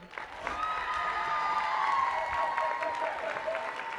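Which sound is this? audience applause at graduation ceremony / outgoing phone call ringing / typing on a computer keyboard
audience applause at graduation ceremony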